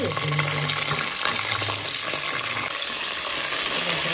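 Green chilies, chopped onion and curry leaves hit hot oil in a pan for a bachelor-style shavige bath, giving a steady broadband sizzle and hiss that runs continuously at close range with no talk.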